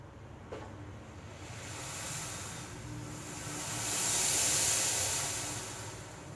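Tea and milk boiling in a pan on the stove, a faint, continuous bubbling hiss that slowly builds and swells, heard up close with no talking.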